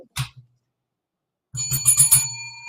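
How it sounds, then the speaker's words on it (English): A wrestling bell rings once with a brief clang, then after a pause rings again in a rapid series of bright metallic dings that sustain with a ringing tail, loud and close. "you want to ring the bell one more time?"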